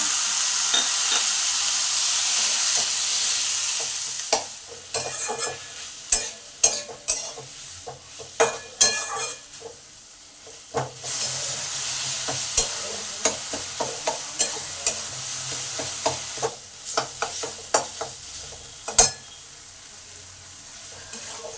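Tomatoes frying in white oil for a Chinese-style egg chilli, a continuous close sizzle broken by frequent sharp spatula scrapes and clinks against the pan, with no one speaking.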